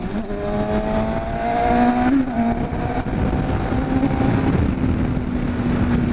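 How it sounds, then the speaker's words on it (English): A 2013 Kawasaki ZX6R motorcycle drops a gear and accelerates, engine pitch climbing and briefly dipping as it shifts, loud and close over heavy wind roar. "That was just a quick flip down in the gear, feel a bit of acceleration."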